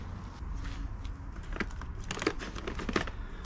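Scissors cutting open a bag of Grass Gains Lawn Bulk Black Edition organic lawn fertiliser, with crinkling plastic and short snipping, tearing bursts near and moderately loud, no talking.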